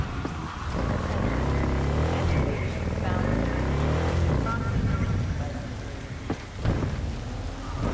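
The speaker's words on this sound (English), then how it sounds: "And it's raining, and we're in a motorcycle." Rain falls in the Cyberpunk 2077 video game during a motorcycle ride, a steady hiss under a droning engine with a few sharper bursts, while a person talks over it.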